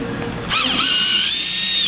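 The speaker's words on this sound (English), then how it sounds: "we're going to use the Phillips head screwdriver to remove the 4 screws that secure the frame cross member" A Phillips head screwdriver removes screws from a massage chair's frame cross member: after a quiet start, a loud, high motor whine kicks in and holds steady, close by, with no speech.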